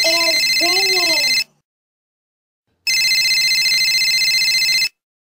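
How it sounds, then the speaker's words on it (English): A telephone rings in two long electronic trilling bursts separated by a short silence, loud and close, with a voice talking briefly over the start of the first ring. "The phone is ringing."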